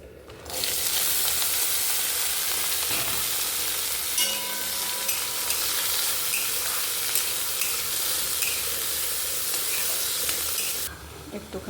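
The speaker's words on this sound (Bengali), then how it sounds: "ভাজা মুগ ডাল করছি আজকে।" Mung dal sizzling in a frying pan, a steady loud crackle that starts abruptly, carries faint stirring clinks throughout, and cuts off near the end.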